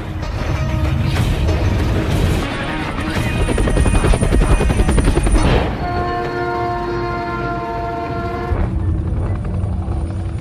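A film scene: a loud, steady mechanical roar with rapid rotor-like thumping from a military helicopter over a runaway train, blended with rumbling rail noise and a sustained train horn tone.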